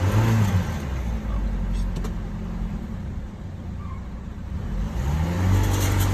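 A stuck truck revs with a low, rumbling engine while a tire spins in place, a steady close drone that swells at the start and end, with people talking over it.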